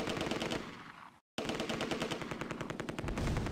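An MG-42 machine gun in the video game Close Combat fires rapid, continuous bursts, loud and close, with one brief silent gap before the chattering fire resumes.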